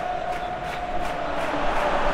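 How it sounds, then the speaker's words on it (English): A stadium crowd in the football game PES 2021 roars steadily in a broad, sustained wash of cheering at moderate loudness, with no commentary over it. "Well, the crowd clearly liked what they just saw."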